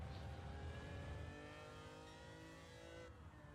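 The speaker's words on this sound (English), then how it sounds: "It does sound very nice. After all, it does have a Ferrari engine." A Ferrari-engined race car in Gran Turismo 7 hums steadily at high pitch, a smooth sustained drone with a slight shift in tone partway through, no talking.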